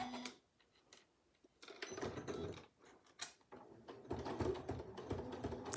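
A sewing machine fitted with a braider tool stitches fabric in bursts of rapid mechanical clatter, pausing briefly between runs.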